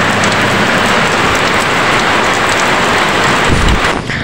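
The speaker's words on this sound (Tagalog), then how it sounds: "Lakas ng ulan dito" Heavy rain pours down steadily, a loud, dense and continuous hiss of drops striking surfaces close by, with no voices and a slight easing at the very end.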